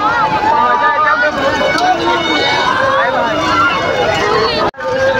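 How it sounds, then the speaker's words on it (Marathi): A dense crowd fills the Ram Navami fair at Pajpandhari with a loud, steady babble of many voices, constant and close throughout, broken only by a brief dropout near the end. "किती आहे ते गर्दी जाम गर्दी आहे"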